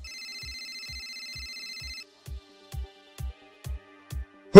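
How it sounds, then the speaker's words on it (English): A cell phone rings with a steady electronic tone for about two seconds, over a regular low thumping beat that carries on after the ring stops, with clicks and a sharp loud hit at the very end. "All of a sudden, Doc Head's phone went off."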